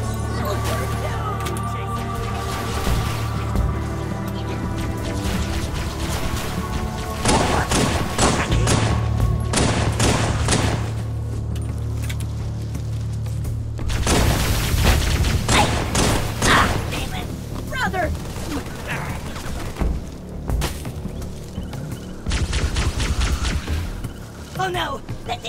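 Halo 3 campaign gunfire in a video game battle, repeated bursts of shots and thuds over a constant loud background din, with shouting voices heard throughout.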